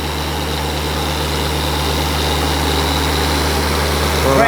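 A car polishing machine spreads Labocosmetica polish, running as a loud, steady motor whine and hum that holds evenly throughout, with no break in the sound.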